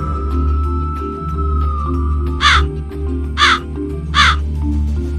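Three loud, harsh crow caws ring out about a second apart over a steady low hum and soft background music.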